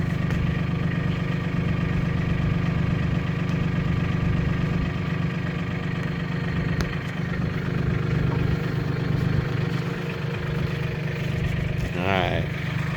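A small tractor engine idles steadily while the tractor sits stuck in mud, a constant mid-pitched running drone close by with a brief whine near the end.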